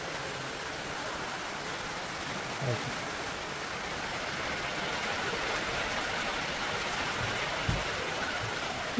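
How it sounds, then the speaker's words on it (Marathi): Rain falls outdoors as a steady, soft, broadband hiss throughout, fairly faint, with a couple of brief low thumps in the background. "पाऊस बी लागला, पाऊस बी यायला लागला"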